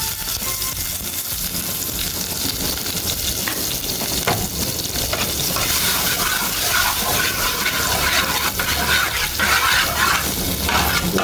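Water being poured onto a hot béchamel mixture in a pan, giving a continuous, dense sizzling hiss that holds steady for about eleven seconds with no talk over it.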